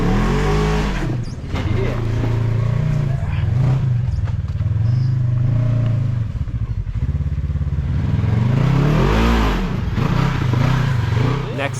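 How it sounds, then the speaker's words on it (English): A Polaris RZR XP 1000 side-by-side on stock 30-inch Carnivore tires climbs a Tennessee trail, its engine droning and revving loud and close with rising and falling pitch, and a voice speaks over it. "now we got Paul hitting it in the RZR XP 1000, also on a stock size tire"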